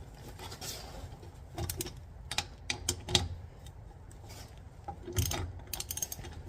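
Lug nuts on a Smart car wheel fitted with directional snow tires are snugged down by hand, producing irregular metallic clicks and ratcheting taps close by over a faint background.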